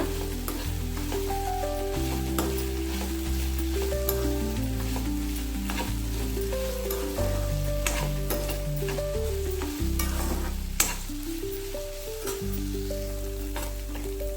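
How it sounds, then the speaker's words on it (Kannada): Okra sizzles and fries in a pan over a low gas flame while being stirred, a steady crackling fry running continuously with scraping strokes and a faint background tone under it. "ಬೆಂಡೆಕಾಯಿ ಚೆನ್ನಾಗಿ ಬಾಡುವ ತನಕ ಇದನ್ನ ಇದೇ ತರ ಲೋ ಫ್ಲೇಮಲ್ಲಿ ಫ್ರೈ ಮಾಡ್ತಾ ಇರಬೇಕು."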